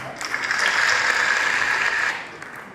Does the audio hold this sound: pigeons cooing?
no